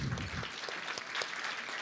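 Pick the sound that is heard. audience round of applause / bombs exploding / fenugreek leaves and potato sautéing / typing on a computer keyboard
audience round of applause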